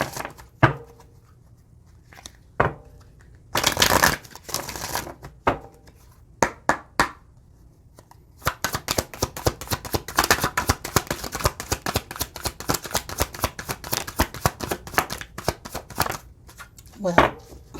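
A deck of cards is handled and shuffled at a table. Sharp, riffling bursts come first, then a long run of rapid, crisp flutters with brief pauses between, and speech is also present.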